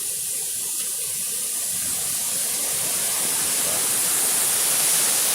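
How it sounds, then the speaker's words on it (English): Steady rushing water pours continuously over a man-made weir, a broad even roar that swells slightly louder toward the end, with no voices. "less of a waterfall, more of a weir. That's definitely man-made."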